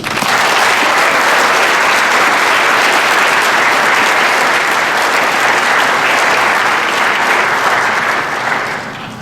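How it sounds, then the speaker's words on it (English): A loud, dense round of applause fills the hall at a winter graduation ceremony as the crowd claps steadily for the graduates, then tapers off at the very end. "Let's have a round of applause for our graduates"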